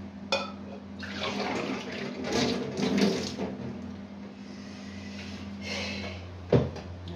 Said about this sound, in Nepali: म चाहिँ पानी भरौँ